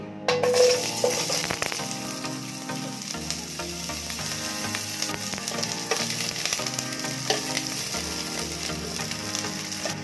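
Thick-cut onion dropped into hot oil in a pan, giving an initial clatter followed by a steady, close crackling sizzle that holds throughout.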